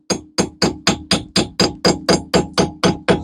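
Sharp metallic hammer blows on a screwdriver against a seized ABS sensor at the front wheel hub of a Golf 4, twelve loud, close strikes in a steady, even rhythm with short ringing decays.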